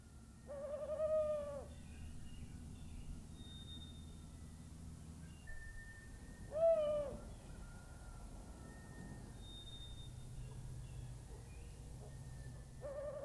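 An owl hoots twice in a forest at night, each call a wavering tremulous note several seconds apart, moderately close over a steady low hum of night insects and faint high chirps; no voices.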